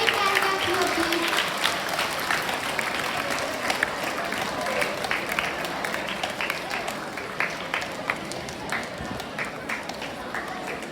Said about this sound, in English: A big hand clap here, please.